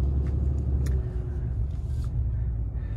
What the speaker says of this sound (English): I figured we might as well take a moment to do a quick test drive.